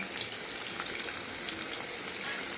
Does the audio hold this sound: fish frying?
yes